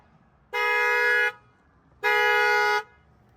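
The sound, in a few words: Honda car horn honking from network short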